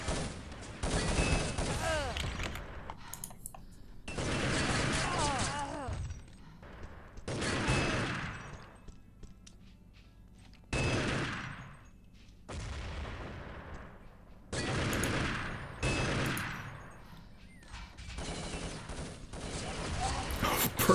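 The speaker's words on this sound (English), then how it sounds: "Perfect nade there, straight at the foot of the flag, and Simca saves the day there." Gunfire and a grenade blast ring out in an online team shooter match, with repeated loud bursts of shots and booms separated by brief quieter gaps over about twenty seconds.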